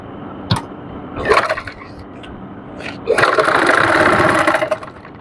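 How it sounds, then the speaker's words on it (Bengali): A sewing machine stitches trouser fabric, coming in a short burst near the start and then a longer steady whirring run, close and moderately loud, with no voices. "মুহুরিতে রেখে এখান দিয়ে একটি সেলাই দিয়ে নিব।"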